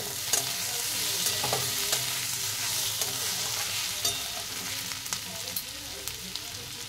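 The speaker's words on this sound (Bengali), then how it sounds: "আদা রসুনটাও ভালো করে ভেজে নেব এই আলু পেঁয়াজের সাথে।" Ginger, garlic, potato and onion frying in a pan for a bottle gourd dish, a steady close sizzle with intermittent stirring clicks and scrapes throughout, no voices.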